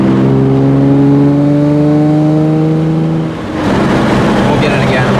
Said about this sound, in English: what it sounds like when you're driving the car. Hear that rasp at the top end there?